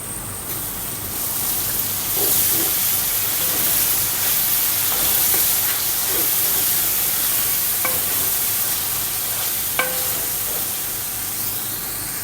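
Carrots simmering in sauce in a hot pan give off a constant hissing sizzle with faint steam, broken by a few light utensil clicks and taps while stirring.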